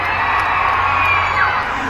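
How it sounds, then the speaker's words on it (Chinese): A large outdoor crowd screams and cheers loudly and continuously at the 2021 Pingtung music festival in Taiwan, with high shrieks and whoops over a steady roar. "现场朋友，尖叫声在哪里？"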